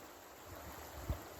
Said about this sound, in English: this is the creek right behind my house